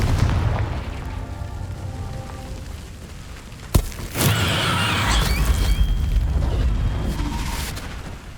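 A Confringo fire spell cast in the video game Hogwarts Legacy bursts with a sharp, loud explosive boom. A crackling, rumbling blast follows over steady game ambience.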